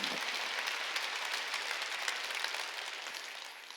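A church congregation at a Wednesday worship service claps together in a steady, fairly distant burst of applause that fades slightly toward the end.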